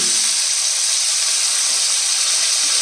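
Okra fries in hot oil, a loud and unbroken sizzling hiss heard up close, steady throughout, with no voices.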